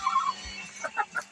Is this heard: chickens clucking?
yes